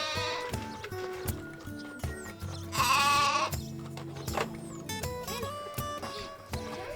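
Sheep on a homestead, one recently sheared, bleat several times in wavering cries, with a loud close bleat in the middle, while other farm noises and low thumps run underneath.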